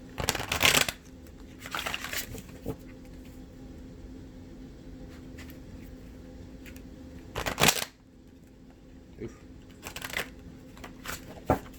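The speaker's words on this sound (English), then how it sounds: "I'll be rough with this shuffling, y'all." Cards are riffled and bridged in a few sharp bursts, separated by quieter handling and soft rustling.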